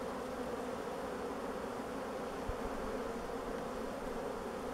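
Honey bees buzz in a steady, soft drone at a hive as the queen is returned, with a low, even hum throughout.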